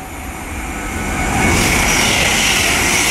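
A 12-carriage train passes Mill Hill Broadway station, a broad, loud rushing roar that swells over the first second and a half, then holds steady and close.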